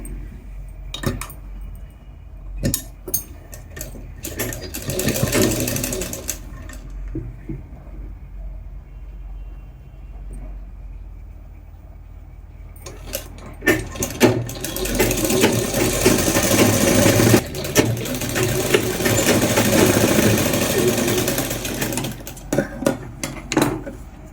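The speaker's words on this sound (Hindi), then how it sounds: "यहाँ से इसको ऐसे फोल्ड करते हुए यूँ सिलाई लगा लेंगे।" Close, loud sewing machine stitches a folded chooridar opening in two long runs with a quieter handling pause between them, the motor whirring steadily with rattling clicks.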